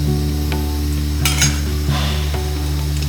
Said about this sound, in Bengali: মাছটাকে এখন ভাজবো।